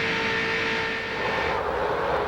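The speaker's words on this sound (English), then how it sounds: "Listen to his engine." A stock car engine at full throttle at Daytona, 2001 Pepsi 400, roars as a sustained high whine that holds steady and then shifts in tone as the car passes, loud and without talk over it.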